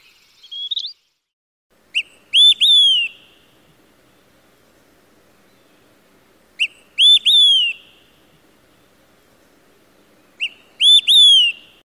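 A wood pewee, a flycatcher, sings near Port Alberni on Vancouver Island: three clear, slurred whistled phrases spaced about four seconds apart, close and loud over near silence.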